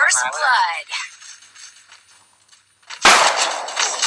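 Gunfire in a ranked 4v4 shooting video game, with a burst of shots at the start, a quiet stretch and another loud shot followed by ringing, sharp game audio.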